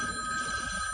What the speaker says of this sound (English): I'm going to hit the button now for our Hour 2 phone jingle